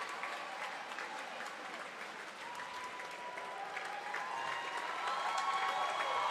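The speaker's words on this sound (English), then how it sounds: "Middle Township crowd on its feet, and a standing ovation for the standout point guard" A Middle Township crowd rises in a standing ovation for the standout point guard at a high school basketball playoff game against Oakcrest, steady applause and cheering that swells louder toward the end, heard from a distance in a gym.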